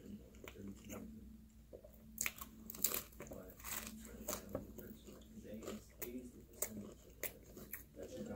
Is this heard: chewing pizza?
yes